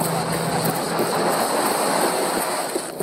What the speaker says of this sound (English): A rescue helicopter is inbound.